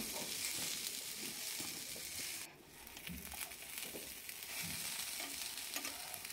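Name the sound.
okra being sautéed and stirred in a pan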